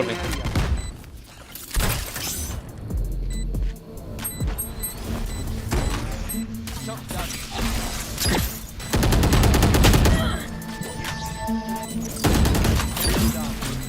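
Gunfire from the Valorant game, a burst of shots fired through a wall, with dense rapid bursts mixed into game effects and a voice talking over it.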